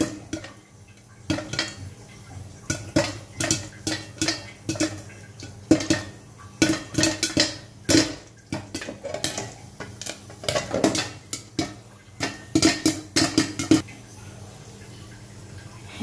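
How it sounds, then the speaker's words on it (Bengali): Popcorn kernels pop in a pan, giving irregular sharp cracks in scattered bursts over a low background. The pops bunch together in places and then thin out briefly. "পপকর্ন ফুটছে, কি সুন্দর আওয়াজ।"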